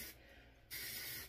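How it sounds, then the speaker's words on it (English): Wig wax sprayed from an aerosol can onto a wig: a short, quiet mechanical click followed by a sharp, close hiss of spray lasting about half a second. "I'm just gonna spray some wig wax."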